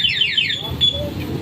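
A motorcycle alarm system chirps in a quick series of sharp descending electronic sweeps, loud and close, then stops, leaving a faint hum with a brief tone near the end.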